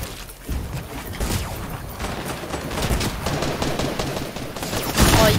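Gunshots in a video game: rapid, close shots with mechanical clacks, layered into a continuous busy barrage that swells slightly toward the end.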